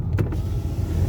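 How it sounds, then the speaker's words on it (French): Electric window motor whirs briefly as a glass pane lowers in a Mercedes AMG, a short burst near the start over steady low cabin and road rumble. "Je vais ouvrir un peu la vitre, je me permets."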